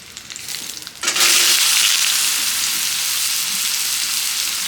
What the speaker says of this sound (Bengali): জিরা ফোড়ন দিচ্ছি। এখন এটা আলু দিয়ে দিচ্ছি।